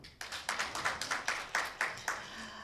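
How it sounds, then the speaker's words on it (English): An audience at a bar-bench engagement event claps in slow unison, about ten sharp, evenly spaced claps ringing out in a room, with no talk over them. "I think they're waiting for a hand clap."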